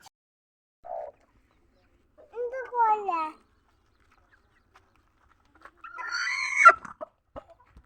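A few short clucks and warbling calls from a brooding Aseel rooster, spaced apart in a quiet setting, with a louder burst of squawking clucks toward the end.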